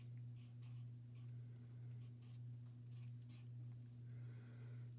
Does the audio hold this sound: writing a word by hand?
yes